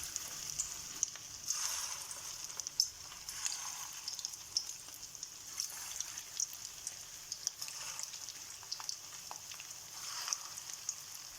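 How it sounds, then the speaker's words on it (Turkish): Cypriot meatballs fry in hot oil in a pan with a soft, steady sizzle and faint crackling pops, quiet and close, with no one talking. "şimdi kızgın yağın içerisine köftelerimizi bırakıyoruz"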